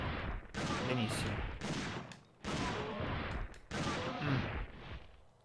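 Gunfire in the video game Dino Crisis 2, dense bursts of shots in several loud volleys separated by brief gaps, dominating the mix.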